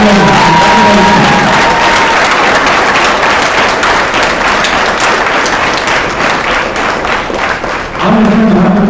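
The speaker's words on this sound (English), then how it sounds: "Let's do one more round of applause for all those academic award winners." A school awards program audience gives a loud, dense round of applause for academic award winners, continuous clapping with a few whoops and cheers mixed in, and a voice briefly heard at the start and end.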